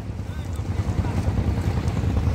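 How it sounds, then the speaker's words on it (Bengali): A large trawler passes on the river at the Chandpur confluence of three rivers, its engine a deep, steady rumble mixed with wind buffeting. "পাশ দিয়ে একটা বড় একটা ট্রলার যাচ্ছে"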